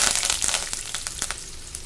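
Cumin seeds, mustard seeds and curry leaves sizzling in hot oil in a kadhai, a loud, close hiss with rapid crackling and spitting pops that eases slightly toward the end.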